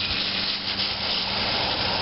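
A sump pump moving harvested rainwater pulls air as it runs, giving a steady, loud, rough hissing rush with no pauses and no voices.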